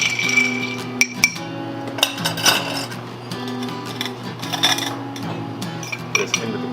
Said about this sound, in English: get a nice stir in here